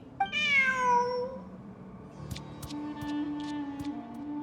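A cat in the game Genshin Impact gives one drawn-out, descending meow up close, then soft clicks and faint ticking sounds follow under a low steady tone.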